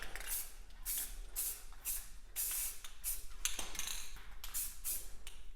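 Spray paint can spraying black paint in short repeated hissing bursts, about a dozen quick close sprays in an uneven rhythm.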